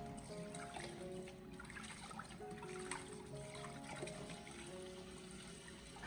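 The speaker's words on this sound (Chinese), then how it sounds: "先放到水盆里面，用流动的清水将其清洗一下" Fish pieces rinsed by hand in a basin under a steady stream of running tap water, a continuous close trickle and splash with light handling noises, no talking.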